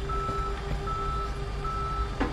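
Tow trucks pulling up in the video game Police Simulator: Patrol Officers, a steady electronic reversing beep pulsing over a low engine rumble and continuous traffic noise.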